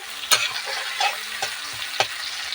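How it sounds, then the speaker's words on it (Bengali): Shrimp frying in a pan, a soft continuous sizzle broken by a few sharp scrape-and-tap sounds of stirring, close and fairly quiet. "দেখো চিংড়ি মাছগুলো ভাজা হয়ে গেছে কিন্তু খুব বেশি কড়া করে ভাজবো না"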